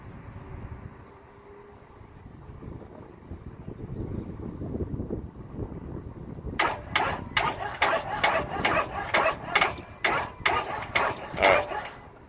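A Ford F350 pickup with a weak battery cranks, its starter giving a rapid rhythmic chugging over outdoor wind noise after a few seconds of quieter rumbling.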